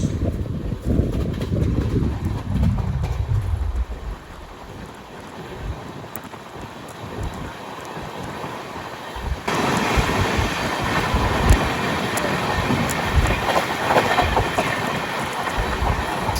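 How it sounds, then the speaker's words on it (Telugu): MGR Chennai Central Express from Tirupati passing on a crossover, heard from a moving train as a broad rushing rumble with wind noise and clattering wheels. A falling whoosh comes early and a brighter, louder clatter follows. "ఇప్పుడు క్రాస్ ఓవర్ అయింది ఎంజీఆర్ చెన్నై సెంట్రల్ ఎక్స్ప్రెస్ తిరుపతి నుంచి"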